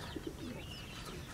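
A fancy pigeon gives a couple of soft, low coos close together, faint beneath a broad background hum.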